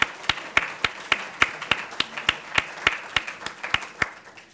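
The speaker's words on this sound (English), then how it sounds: "if everybody will join me in giving her a round of applause" A small audience gives a short round of applause at a presentation, with sparse, distinct claps landing in a loose, steady rhythm, close and moderately loud.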